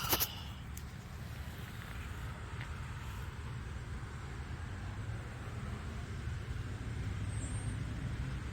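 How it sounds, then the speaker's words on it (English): Road traffic passes along a busy street. Cars, buses and trucks make a continuous, moderately distant wash of engine and tyre noise that swells slightly toward the end. "There's a lot of traffic today"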